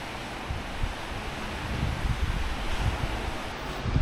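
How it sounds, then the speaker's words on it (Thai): Ocean waves on a beach washing in with a low, rumbling surge, mixed with gusts of wind buffeting the microphone; no one speaks. "ทุกคนได้ยินเสียงคลื่นไหม"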